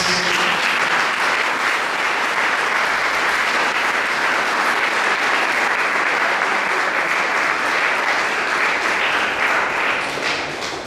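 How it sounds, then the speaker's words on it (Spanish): A church congregation applauds during a Spanish-language sermon, with loud, sustained clapping from many hands that fills the room evenly for about ten seconds without letting up. "¿Qué tal si le da un aplauso a Dios?"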